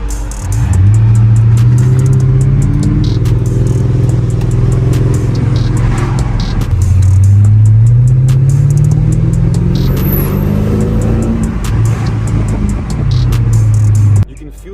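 A 2003 Mercedes E500 with its naturally aspirated 5-liter M113 V8 drives along, the engine droning loud and close with rising pitch sweeps as it accelerates through the gears, then dropping and climbing again.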